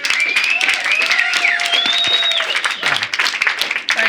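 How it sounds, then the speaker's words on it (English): Enthusiastic audience applause at a Las Vegas comedy show as a comedian is welcomed to the stage, dense clapping with a few whistles and cheers rising above it, loud and continuous. "please, welcome to the stage with a big round of applause,"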